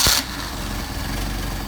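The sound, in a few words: engine idling after hot start, carburetors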